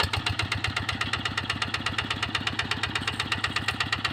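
A tractor engine idles with a rapid, even chugging rhythm, close and fairly loud, with no voices.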